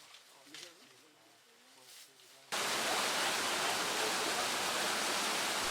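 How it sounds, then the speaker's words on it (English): Roaring waterfall of rushing water deep in the Madagascar jungle, bursting in loud and steady and filling the sound after a quieter stretch of murmuring voices and forest ambience. "a sound, a rush, a roar. Water, wild and near."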